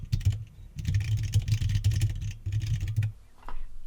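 Rapid bursts of keystrokes on a computer keyboard, close and fairly loud, typed in quick clusters with short pauses between them, with no talking.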